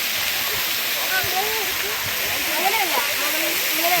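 The water show at Brindavan Gardens in Mysore gives off a steady rushing, hissing spray of fountains, with faint crowd voices and whistly chirps scattered over the constant wash of water.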